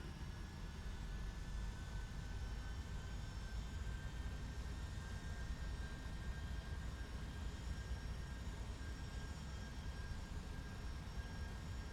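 A steady, even roar of Boeing 757 jet engines fills the cabin of an X-Plane 12 flight simulator, holding a constant broadband hum with faint high whines and no speech.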